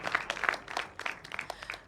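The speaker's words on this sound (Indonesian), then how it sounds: "Dan berikan tepuk tangan yang meriah." Scattered, light hand clapping from an audience at a digital media masterclass, a brief burst of separate claps that stays fairly soft and ends within two seconds.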